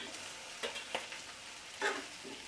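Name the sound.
chopped tomato frying with vegetables in pan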